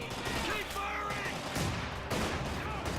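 Machine gun fire from a Company of Heroes 2 battle, a rattling burst of automatic shots with other gunfire mixed in, heard at moderate distance amid busy game noise.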